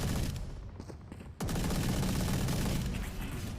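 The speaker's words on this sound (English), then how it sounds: "Desperate pot shots, really, with the Odin." Odin machine gun fire in Valorant, sustained rapid automatic bursts that cut briefly and then resume louder and denser for the rest of the stretch.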